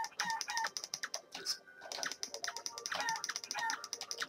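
Chicken enemy clucks in the video game Realm of the Mad God, short squawking bursts repeating rapidly under a patter of fast keyboard and mouse clicks, fairly quiet throughout.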